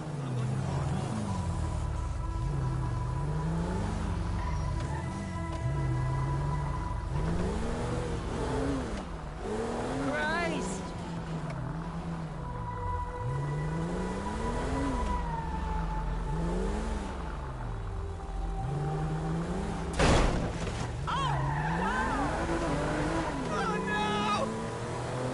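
Car driving around a city block in GTA V, an engine droning and revving up and down in repeated waves through the whole stretch, with people talking over it and a brief thump partway along.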